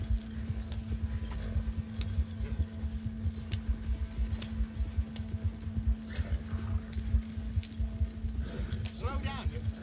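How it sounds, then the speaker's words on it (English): Horse hooves clop in a steady galloping rhythm in the Red Dead Redemption 2 video game, mid-loud and continuous beneath a low engine-like drone, with voices talking over them. "Slow down. You'll burn out the horses."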